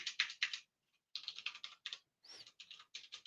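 Keys clatter in quick bursts on a computer keyboard, close and fairly quiet, with short pauses between flurries of rapid clicks and no talking.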